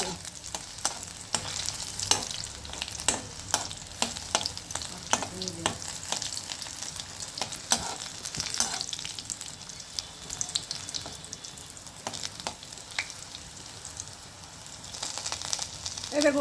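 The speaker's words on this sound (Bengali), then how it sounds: "দেখুন কিরম এগুলো একদম মচমচে হয়ে ভাজা হচ্ছে।" Ivy gourd (kundri) frying crisp in a pan, a soft continuous sizzle with intermittent stirring scrapes and clicks, fairly quiet and close, with no talking.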